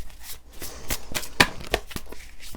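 A tarot card deck shuffled by hand on a table, its quick papery riffles and soft slaps coming close and fairly quiet in short bursts over about two and a half seconds, with no talking.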